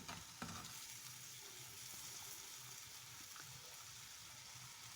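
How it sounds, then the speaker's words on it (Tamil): Mutton liver fry masala being stirred in a pan, a steady sizzle and frying hiss with soft scraping stirs throughout, close and continuous, no talking. "சுருள கிளறி விட்டுக்கிட்டே இருக்கணும்."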